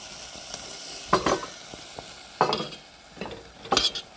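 Macaroni being stirred into tomato paste in a pan over a low flame, giving several short bursts of scraping and sizzling with quiet gaps between them, with no talking.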